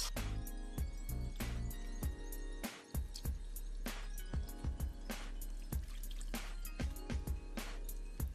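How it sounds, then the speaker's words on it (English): Gravy mixture poured over thick turkey chops in a kitchen, giving a steady run of wet dripping and splattering with repeated soft plops throughout, close and fairly quiet, with no talking. "pour the gravy mixture over the chops."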